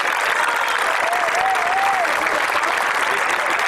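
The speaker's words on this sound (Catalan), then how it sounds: "Un aplaudiment per aquests 18 anys de la plataforma en defensa de l'Ebre" A large crowd gives sustained, loud applause at an outdoor political rally in the Ebro region, a dense even wash of clapping with a faint voice briefly audible underneath.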